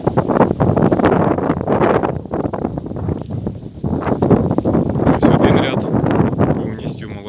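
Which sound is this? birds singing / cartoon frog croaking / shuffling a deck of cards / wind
wind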